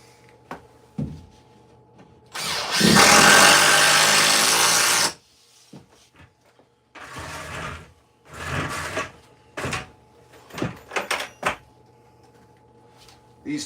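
A power driver runs long 3 1/8 inch screws into wall studs while framing for drywall. One loud, close buzzing burst lasts a few seconds, then a shorter one follows amid clatter and handling knocks.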